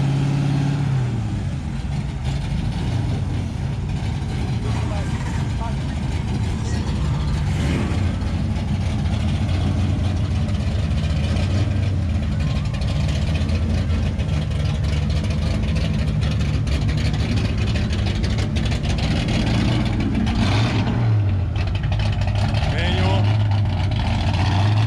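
A 1965 Dodge Coronet Hemi muscle car rumbles steadily at a classic Mopar car show, its deep low engine note sustained throughout with slight swells, heard close up.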